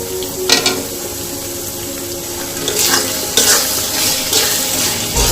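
Spicy prawn sauce sizzling in a pan as onions are tipped in and stirred, with scraping and clattering spoon strokes over a steady frying hiss, a few sharper bursts midway.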